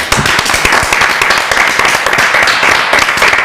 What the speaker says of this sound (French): Il faut applaudir pour que l'applaudissement soit comme le vendredi dernier